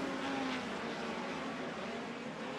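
Midget race cars racing on the dirt oval at Lincoln Speedway, a continuous engine roar from several cars with a pitch sweeping down as one passes, loud and steady with no talk.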